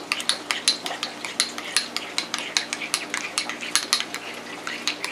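Homemade tartar sauce of mayonnaise and relish being stirred in a bowl with a metal utensil, a steady run of quick, close, wet clinking scrapes with no voices.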